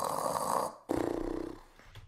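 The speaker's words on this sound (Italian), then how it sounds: "Questa è la recitazione del Russare, è meraviglioso." A person acts out snoring, giving two loud, close snore strokes: a long raspy inhale followed by a rattling, pulsing snort, with a brief pause between them.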